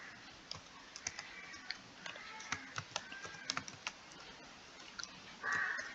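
Typing on a computer keyboard, quiet close keystrokes tapping in irregular bursts with a few louder clicks, nearly alone with no talk.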